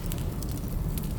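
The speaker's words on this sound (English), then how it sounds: "Oh, fire bad." Fire in the video game Layers of Fear burns with a dense low roar and soft crackling, steady and close for a brief moment.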